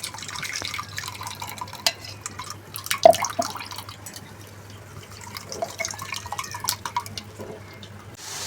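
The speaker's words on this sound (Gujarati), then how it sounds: "હવે આપણે એને ગાળી લઈશું." Freshly ground java plum (jamun) pulp is strained, and juice drips and trickles in small, quiet, irregular drops and splashes against soft background hiss.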